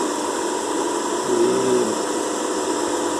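Air fryer motor running with one of its three stabilizing screws missing, giving a steady, dense mechanical hum and buzz with a brief tonal whine in the middle, close and continuous, with almost no speech.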